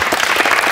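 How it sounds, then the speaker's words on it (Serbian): A crowd at a sports team presentation breaks into brief, loud applause, many hands clapping close together in a short burst. "Molim vas, aplauz!"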